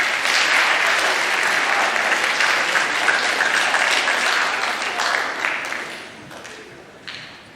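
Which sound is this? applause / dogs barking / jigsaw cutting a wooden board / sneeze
applause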